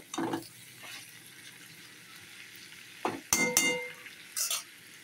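Potatoes and snake gourd being stir-fried in a pan, with a few sharp scrapes and clinks of a spatula against the metal over a low sizzle, in short bursts with quiet gaps between.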